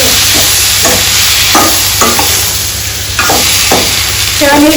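Tomatoes cook in a pan for Telangana-style tomato dal, with a steady, loud sizzle close by and a spoon scraping through them in several spaced stirring strokes.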